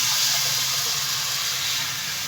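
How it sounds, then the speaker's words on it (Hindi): Urad dal batter poured into a hot pan on the stove gives a steady, loud sizzling hiss that holds evenly throughout with no voices. "अब इसके बाद जो मैंने बैटर घोला था, अब मैं इसको डाल दूंगी।"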